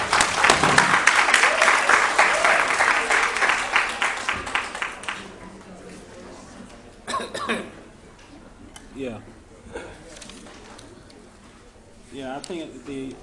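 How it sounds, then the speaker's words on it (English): A short burst of audience applause opens, loud and dense for about five seconds before quickly dying away, followed by quieter talk and scattered sounds. "can we have a round of applause for Sarah Lees?"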